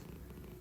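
A cat purring loudly, a dense low rumble filling a very short moment, close and steady with no talk.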